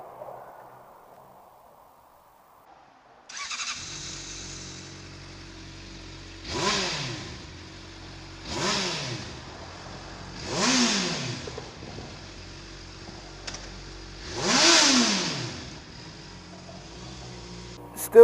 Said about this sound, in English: Still sounds like a bloody damn good bike, even with the standard exhaust on it.